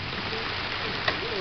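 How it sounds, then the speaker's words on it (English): Hail pelts down during a thunderstorm, a dense, continuous patter of ice hitting surfaces, with one brief sharper impact standing out. "Is that ice? Yeah, it's hail."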